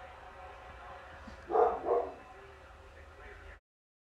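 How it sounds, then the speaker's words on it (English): An indoor dog gives two quick barks in the middle, moderately loud against a quiet room where someone is braiding hair. "Excuse my dog if y'all can hear him barking."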